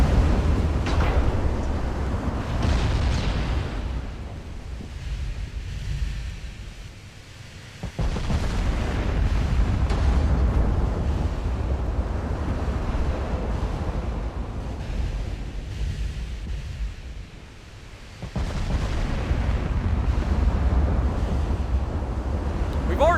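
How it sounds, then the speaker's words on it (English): Heavy warship gunfire from the Ultimate Admiral Dreadnoughts naval battle game, a loud sustained roar of booming salvos and rumbling blasts that swell, dip briefly twice, then return, with a voice talking over it. "Good God, listen to those guns."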